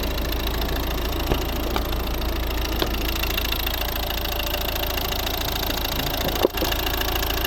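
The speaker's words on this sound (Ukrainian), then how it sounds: "Ну, ось робота двигуна." A 2012 Volvo V50 with a 1.6 D2 diesel of 115 horsepower idles steadily, a close, even rumble with a faint rhythmic knock running unbroken throughout.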